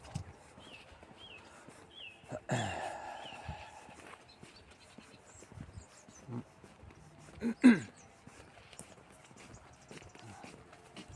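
A dog being walked by a man passes nearby outdoors, with scattered footsteps and faint jingling, a brief louder scuffle in the middle and a quiet background.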